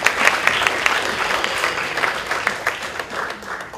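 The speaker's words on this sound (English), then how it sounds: "So a big round of applause to the CYTER team." An audience at a medical continuing-education lecture on sleep, consciousness and meditation gives a round of applause, a dense, steady patter of many hands clapping at moderate volume throughout.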